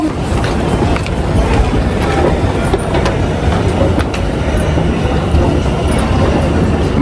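A metro train runs steadily, with a continuous loud rumble and rattle of the carriage heard from inside for several seconds and no speech over it.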